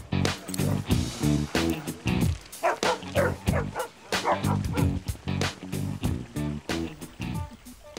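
Dogs bark repeatedly in quick, loud bursts, several yips overlapping, with brief pauses between volleys and faint voices underneath.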